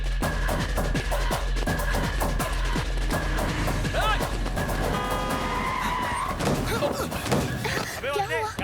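A car skids to a halt near a person in a Hindi-dubbed South Indian action movie, with screeching tires, thumps and impacts amid busy film sound, and voices shouting over it.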